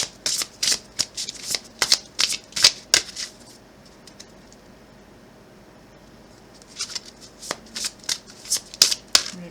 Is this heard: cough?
no